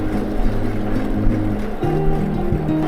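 Steady wind and road noise come from a Hovsco HovGtrs moped-style e-bike with a 1500 W peak motor, ridden at 20 mph, with a low hum under a continuous rushing rumble and no talking.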